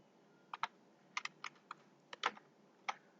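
Typing an npm install command on a computer keyboard for a Vue.js project, about nine separate keystrokes spaced irregularly over a few seconds, crisp and close against a quiet background with no talk.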